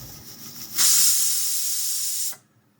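A pressure cooker whistle: a loud, steady hiss of steam bursts out abruptly, holds for about a second and a half, then cuts off, over a quiet kitchen background.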